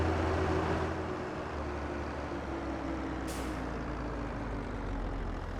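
A heavy truck rolls in within the Farming Simulator game, a low steady engine rumble near and moderately loud, with a brief hiss partway through.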